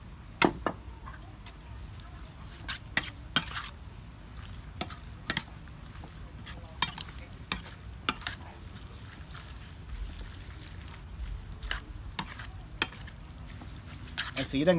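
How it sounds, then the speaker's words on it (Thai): Pork skin for an old-style Thai salad being tossed and mixed with red roasted chili paste, giving irregular sharp clicks and scrapes of utensils against the bowl over a low, steady background. "แล้วก็คลุกเคล้าให้เข้ากันนะ"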